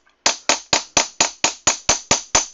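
A planishing hammer strikes sheet metal in a workshop during dishing and planishing work, ringing out ten sharp, evenly spaced blows close up, each with a brief metallic decay and no talking.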